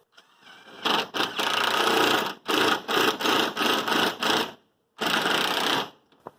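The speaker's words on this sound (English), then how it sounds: "We're going to go ahead and secure it with our gasketed roofing screws" A power drill drives gasketed roofing screws into the roof of a backyard rabbit tractor, several loud whirring bursts close up, each run broken by short pauses, with no talk.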